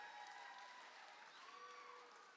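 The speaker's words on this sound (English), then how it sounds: "thanks for the applause there" An audience in a chapel applauds, a faint, distant wash of clapping that stays fairly even throughout, with some tonal murmurs underneath.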